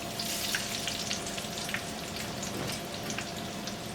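Homemade copycat Chick-fil-A chicken nuggets fry in a pan of hot oil, giving a steady, moderately loud crackling sizzle with scattered pops that runs unbroken and alone, without voices.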